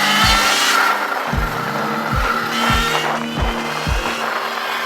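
A Sur-Ron Ultra Bee electric dirt bike pulling under throttle, its close electric motor whine rising and falling in a steady series of pulsing surges, with wind and rolling noise throughout.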